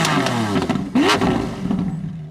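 A Lamborghini Centenario supercar gives a short, sharp engine rev through its triple center exhaust, a quick rising blip that swells and fades over low rumbling, heard close up.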